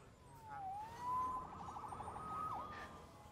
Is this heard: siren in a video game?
yes